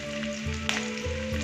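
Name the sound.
garlic and green chili frying in oil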